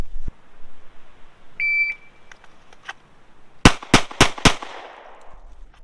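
At a shooting range, a shot timer gives one short electronic beep. About two seconds later, four sharp, loud pistol shots follow in quick succession with a brief echo after each, and no one speaks.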